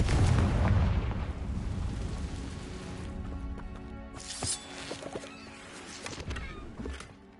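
A Confringo fire spell from the Hogwarts Legacy video game bursts in a loud explosive boom at the start, then rumbles and crackles away among lighter game effects and tonal music.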